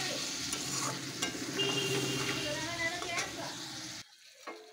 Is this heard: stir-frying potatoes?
yes